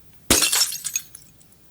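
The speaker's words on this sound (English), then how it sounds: "That's actually a glass breaking sound." AI-generated glass breaking effect: a single sharp crash of shattering glass followed by scattered tinkling shards settling and fading within about a second, alone and close.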